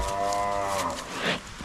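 A cow lets out a long, loud, close moo that rises and then breaks off, followed by a short huff.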